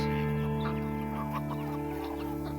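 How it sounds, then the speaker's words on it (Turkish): Several hens cluck softly and intermittently nearby as they are thrown shells to eat, over a steady background hum, with no talking. "ve Özkan onun kabuklarını tavuklara atıyor."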